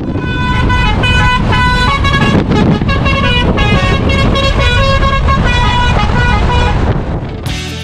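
Lorries on the PLUS Highway, heard as loud continuous honking horns in a musical multi-tone pattern over road rumble, close and dominant, ending abruptly.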